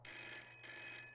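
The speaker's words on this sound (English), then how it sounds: "It's the phone!" Telephone ringing in the adventure game Broken Sword: The Shadow of the Templars, two clear electronic bell bursts in quick succession, quiet and alone with no talk.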